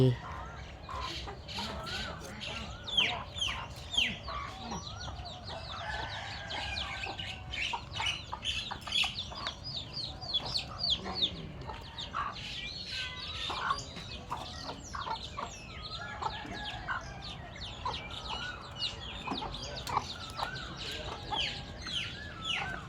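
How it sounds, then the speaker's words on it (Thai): Chickens clucking around a rural Thai home, repeated close clucks and squawks from several birds across the whole stretch, with people talking intermittently alongside them. "ไก่"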